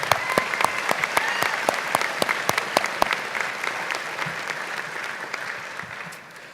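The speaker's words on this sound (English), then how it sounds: "Please give these folks a round of applause." Graduation ceremony audience at OCTC applauds steadily, a dense crowd of clapping hands with sharp individual claps standing out, fairly loud and gradually fading near the end.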